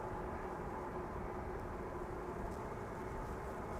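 Distant, steady jet-engine roar from a KLM Cargo Boeing 747 taxiing at Amsterdam Schiphol airport, holding a constant broadband drone with no voices.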